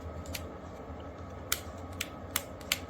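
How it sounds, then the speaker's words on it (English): A Philips QC5115 corded family hair clipper has its button pressed a few times, giving sharp, close, isolated clicks spaced about half a second apart over a quiet background. "nice clicky button"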